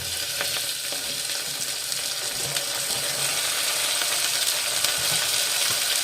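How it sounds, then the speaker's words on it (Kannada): Chopped tomato frying in plenty of oil in a cooker, giving a steady, loud, close sizzle throughout with faint stirring scrapes. "ಈ ಟೊಮೊಟೊ ಫುಲ್ ಎಣ್ಣೆಲೇ ಫ್ರೈ ಆಗತ್ತೆ ನೋಡಿರಿ"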